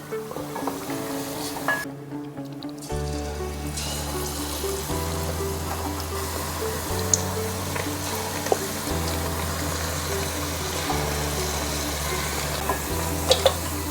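Quail egg bajji frying in hot oil gives a steady, close sizzle and bubbling, with a low hum beneath, brief clicks of utensils and a short sharp noise burst near the start; no voices.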